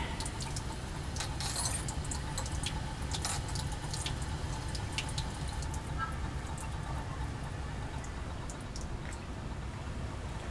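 A spatula just used with sodium hydroxide is rinsed under a running tap in a chemistry lab, giving a steady close wash of water with scattered light clinks and splashes throughout.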